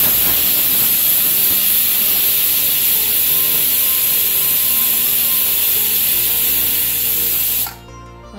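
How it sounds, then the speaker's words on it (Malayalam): A pressure cooker cooking horsegram on a stove vents steam in a loud, steady, close hiss that holds for nearly eight seconds before stopping abruptly. "നാല് വിസിലായി, ഞാൻ അടുപ്പ് ഓഫ് ചെയ്യണേ."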